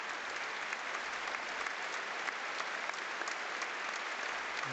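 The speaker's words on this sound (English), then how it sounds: "There's clearly a round of applause in the 38th minute for Dylan Tombides." Fans in a packed football stadium during a West Ham versus Fulham London derby applaud in a steady, continuous wash of clapping heard from a distance, even and unbroken throughout.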